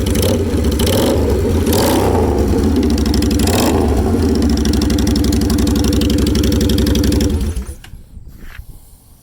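A motorcycle engine with opened-up intake revs loudly and steadily up close, a throbbing mid-pitched drone that cuts off abruptly near the end, leaving faint mechanical ticking.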